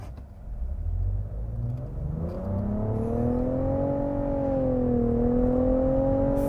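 A 2023 Nissan Rogue SV with a regular CVT accelerates in sport and manual mode, its engine droning steadily up in pitch from a low rumble to a rising whine, heard from inside the cabin with no talk.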